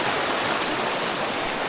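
A rough stream runs over rocks at a campsite in Barangay Santa Cruz, Puerto Princesa, Palawan, giving a steady, close, full hiss of rushing water with no pauses.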